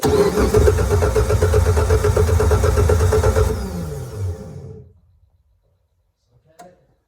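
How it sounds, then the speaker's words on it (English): A 2002 Mitsubishi Montero Sport with the 6G74 engine, turned over on the starter during a timing service, churns loudly for several seconds, winds down to silence, then gives a faint click. "I'm going to try to turn it over with the starter and check the belt"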